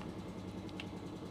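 A fully restored 1987 Yamaha RD350 HT motorcycle engine runs at a steady idle, a low, even, continuous hum that stays quiet and unbroken throughout.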